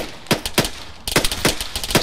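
Friendly gunfire in ARMA 3, a rapid series of sharp rifle shots cracking off irregularly from a nearby position, some bursts closely spaced and others spread out over distant ambient rumble.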